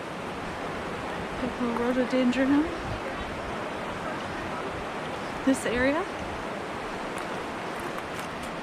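A river beside the Old Sugarlands Trail in the Great Smoky Mountains rushes steadily as broadband noise throughout, with brief speech passing over it.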